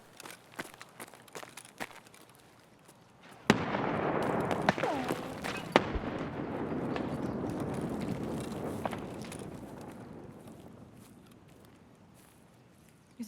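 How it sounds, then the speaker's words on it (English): In the shooter Escape From Tarkov, a few faint ticks and footsteps precede a single sudden grenade blast that booms loudly and rolls away in a long, slowly fading rumble across open ground. "I'm gonna throw a nade."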